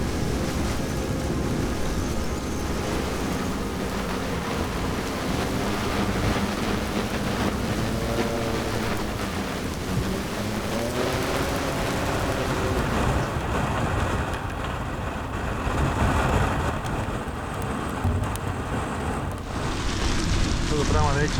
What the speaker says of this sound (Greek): ξαφνικά κάποια στιγμή ο αέρας δυνάμωσε πάρα πολύ